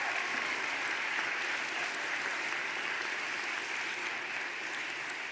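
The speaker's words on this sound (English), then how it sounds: "let's give our parents a round of applause" Sustained applause from a graduation audience honoring the parents, a steady, even roar of many hands clapping at moderate distance, continuing throughout without pause.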